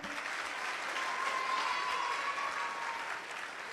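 Steady applause from a sizable crowd at a Delhi public event for new MCD sanitation vehicles, a dense wash of clapping that holds evenly for several seconds before easing slightly.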